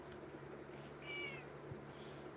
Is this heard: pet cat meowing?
yes